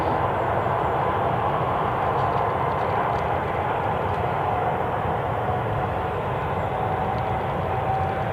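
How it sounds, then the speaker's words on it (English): A Boeing 737 bound for Grenoble runs at Newcastle International Airport on a cold winter morning, its engines a steady, continuous low roar that holds evenly throughout without any voices. "we'll pick up the 737 in a second that is bound for Grenoble"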